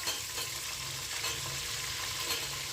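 Onions and green chillies sizzle steadily in a hot pan for a chicken biryani, a continuous close frying hiss with faint stirring underneath and no voices.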